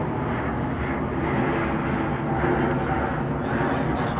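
A Qatar Airways Airbus A350-900 jet climbs out of London Heathrow at sunset, its engine roar a steady, broad rumble that stays loud throughout, with voices talking over it.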